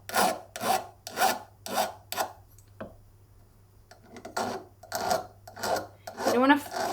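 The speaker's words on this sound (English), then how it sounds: "So I'm just going to file that off with my half round needle file." A half round needle file worked over a soldered join on a silver necklace, about ten rhythmic rasping strokes close up, a short pause in the middle, then more strokes.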